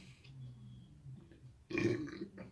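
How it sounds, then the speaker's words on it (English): A short, loud human burp erupts near the end, following a stretch of quiet low murmuring and faint outdoor ambience in a park. "I burped, by the way."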